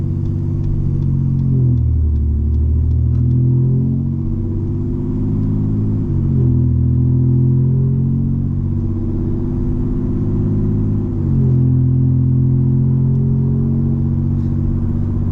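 A 2019 Ford F-150 with a deleted, tuned 3.0 Powerstroke diesel and straight-pipe exhaust pulls away under steady throttle, its loud, deep drone rising through gear changes with brief dips when it shifts.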